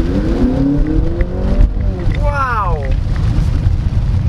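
A 2024 Honda CR-V RS hybrid pulling away from a stop, a moderate engine hum climbing and then sweeping upward through a shift over wind and road noise.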